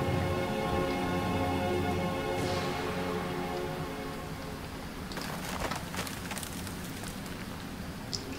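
Rain falls steadily in the hidden-object adventure game Drawn: The Painted Tower, a soft continuous patter over a sustained musical tone, with brighter splashy bursts in the latter half.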